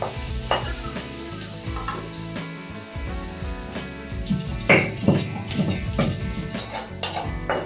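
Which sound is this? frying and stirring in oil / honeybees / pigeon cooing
frying and stirring in oil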